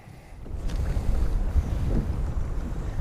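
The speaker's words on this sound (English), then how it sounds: "the wind is really kicking up" Strong wind gusting over a lake from a trolling boat, a steady low rumbling roar of wind buffeting the microphone with faint water sounds, building slightly after the first half-second and holding loud throughout.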